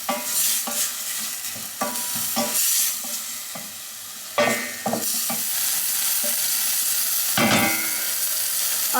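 Pancetta and vegetables fry in a small amount of oil in a pan for a hearty soup, a steady close sizzle broken by the scrape and clatter of stirring, with louder bursts as the ingredients are moved around.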